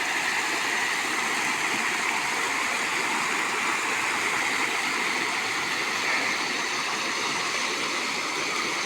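A stream of water flows steadily beneath a bridge, a dense, continuous rushing and gurgling that holds at an even level throughout with no voices.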